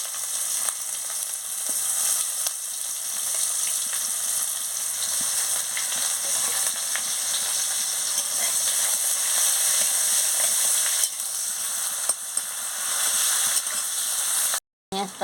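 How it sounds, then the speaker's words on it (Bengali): Chopped onion fries in hot oil in a kadai with chilli and whole spices, a loud, continuous close sizzle with occasional stirring scrapes, then a brief pause near the end. "পেঁয়াজটা ভাজা হয়ে গেছে,"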